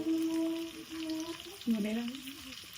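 Onions and garam masala frying for biryani, a soft close sizzle with a few stirring scrapes and low tonal hum, fairly quiet, no talk.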